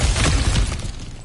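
Cracked ground smashed through in God of War Ragnarok: a loud, close, dense crunching shatter of breaking rock and debris that fades quickly over about a second.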